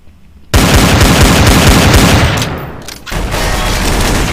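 Dense, loud bursts of automatic gunfire from a Counter-Strike: Source match, sustained rapid shots overlapping for several seconds with a brief dip before the firing resumes.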